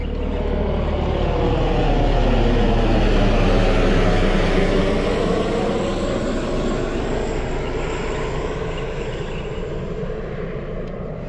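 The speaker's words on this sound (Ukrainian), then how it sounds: "Подивіться, розлітались, другий вертоліт." A helicopter passes over the Dnieper river in Cherkasy region, a steady broad engine and rotor roar that swells toward the middle and slowly fades as it moves away, with no talk.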